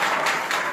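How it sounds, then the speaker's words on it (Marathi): Applause at a student award ceremony, a steady wash of clapping that fills the short moment without any break or voice over it. "जोरदार टाळ्या."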